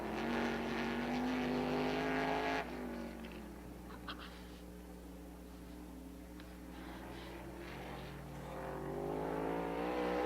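Race car on a warm-up lap around a track: a loud engine drone at first, then it drops away to a quieter, more distant hum that slowly builds again near the end.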